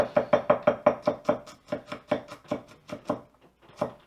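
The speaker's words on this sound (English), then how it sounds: "So that's why I always chop up my own garlic." Garlic being chopped with a knife on a cutting board, a quick run of about a dozen sharp, evenly spaced taps that slow slightly toward the end, close and clear with no talking.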